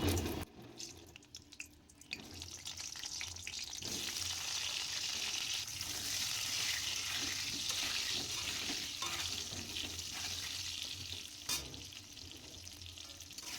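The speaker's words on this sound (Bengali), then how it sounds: "আলুগুলো লাল করে ভেজে নেবে" Potato pieces fry in hot mustard oil, giving a steady, hissing sizzle that holds throughout, with a few clinks and stirring knocks rising over it up close.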